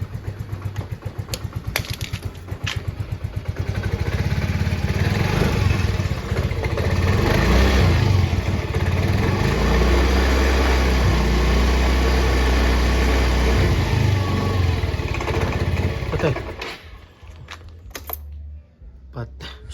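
Honda MIO Soul i scooter engine running loudly with a steady rumbling drone that rises and holds, then cuts out near the end, with occasional background talk.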